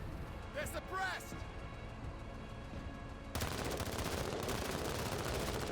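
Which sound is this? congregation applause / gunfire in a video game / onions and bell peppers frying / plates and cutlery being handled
gunfire in a video game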